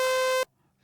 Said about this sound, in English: So you can use this to create some interesting tones.